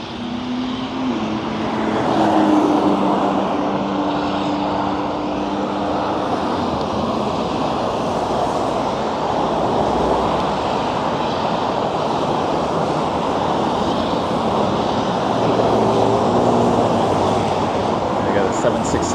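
A Boeing 767 at LAX airport gives off a steady, broad jet roar that holds through the whole span, joined by a low engine whine, while a person talks over it.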